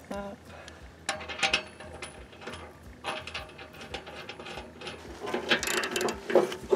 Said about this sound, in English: Bolt on the pulley.